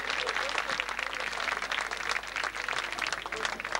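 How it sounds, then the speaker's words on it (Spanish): Loud, dense audience applause fills the hall at a tango performance in Argentina, a steady wash of many hands clapping close and continuous throughout. "Fuerte el aplauso para ellos."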